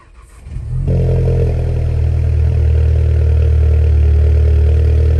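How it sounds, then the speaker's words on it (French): Volkswagen GTI engine cranks briefly, catches and settles into a loud, steady idle with a deep, rough rumble. "On va mettre le premier coup de démarrage, on va voir ce que ça va donner."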